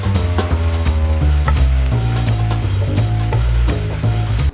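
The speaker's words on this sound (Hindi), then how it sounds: "पहले हाई फ्लेम पे मैं इसको फ्राई करूँगी।" Onions stir-fried over a high flame sizzle loudly and close up, with rapid stirring scrapes throughout under steady background music until an abrupt stop.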